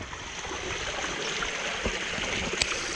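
A swamp stream runs near a beach hiking trail, making a steady broadband rushing and trickle close up, with light splashes and no voices.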